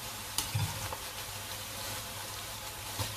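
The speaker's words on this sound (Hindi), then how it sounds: "लहसुन अदरक को भी अच्छे से भून लेंगे" Garlic and ginger fry in hot oil in a pan, a soft steady sizzle close by with a few brief clunks of stirring.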